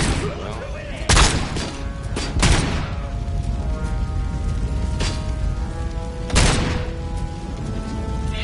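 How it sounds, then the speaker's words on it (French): Grenade blasts in a video game: three sharp explosive bursts stand out over a steady bed of game noise and crackling effects. "Exploser la grenade en plein milieu."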